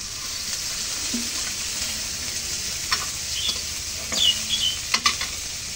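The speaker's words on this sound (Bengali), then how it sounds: "এখন এই যে তেল দিই।" Oil added to a hot pan while cooking biryani, a continuous frying sizzle with spoon stirring and scraping, growing busier and louder toward the end with sharp metallic clinks.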